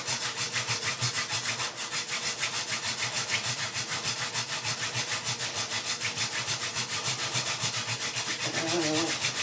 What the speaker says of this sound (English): Trying to get at least the full 3 rotations from the spindle.